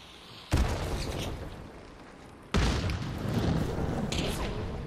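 Two heavy booming blasts from frag grenades in a video game, the second about two seconds after the first, each leaving a rumbling tail, with a fainter third crack near the end.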